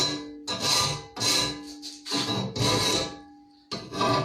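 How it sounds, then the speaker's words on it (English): Edges of an object being sharpened in repeated rasping strokes, five loud close bursts of scraping separated by short pauses. "Now I'm about to sharpen out the edges."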